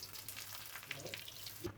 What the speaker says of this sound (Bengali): এভাবে আমি সবগুলো ভাজিয়ে নেব